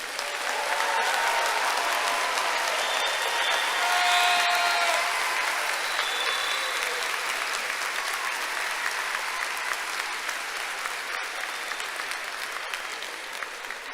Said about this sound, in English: Let's give these graduates another round of applause.